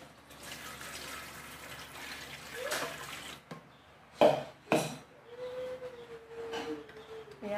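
Water, about 450 ml, is poured into the tank of a Deerma air humidifier, giving a steady trickle with a couple of sharp plastic clunks and a rising filling tone toward the end.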